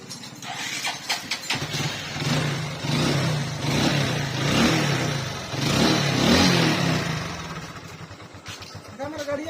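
A Hero Glamour FI motorcycle, just repaired after a no-start fault tied to the fuel tank pump and wiring, idles and then revs up in several rising surges on a trial run, loud and close, settling back between throttle blips.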